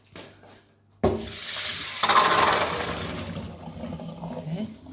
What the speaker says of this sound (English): So I need to drain them from last night's water.